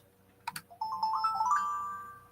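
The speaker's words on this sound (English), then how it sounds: "There's my new phone going off." A new mobile phone rings with a short electronic ringtone: a couple of quick tapping notes, then a bright rising melodic chime that sustains and slowly fades, heard alone.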